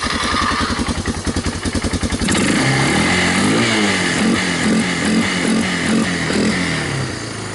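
A 2002 Bear Tracker ATV engine cranking with a rhythmic starter chug, then catching and running loud and close with a rough, steady idle that wavers slightly in pitch.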